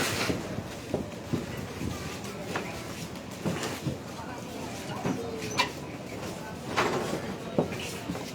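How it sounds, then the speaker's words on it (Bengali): A passenger launch boat approaches on a river outdoors, its low engine rumble mixed with steady wind buffeting the microphone and lapping water, with a few brief knocks and clatters and occasional voices nearby. "এই যে লঞ্চ আসতেছে, দেখছো?"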